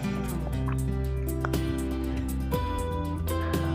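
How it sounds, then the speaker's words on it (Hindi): Water for egg curry coming to a boil in a pan, with drips and bubbling liquid over a steady background of sustained tones and occasional sharp clicks. "पानी है वो अच्छे से बॉयल होने लग गया है।"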